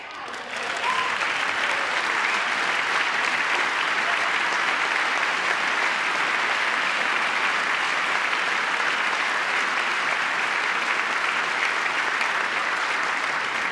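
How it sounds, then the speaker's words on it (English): Members of Congress in a crowded chamber make a sustained, dense roar of applause and crowd noise that holds steady at a fairly loud level for over ten seconds, with no distinct boos standing out. "You can hear a bunch of booing and yelling in the background."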